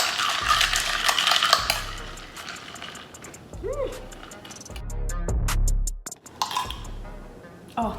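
A spoon stirs iced coffee and oat milk in a glass, sending out bursts of close metallic clinking and scraping with brief pauses, mixed with some soft rattles.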